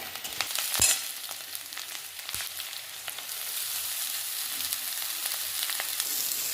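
Grass pea greens drop into aubergine and onion frying in oil, giving a steady close sizzle with a sharp burst near the start and a few stirring clatters.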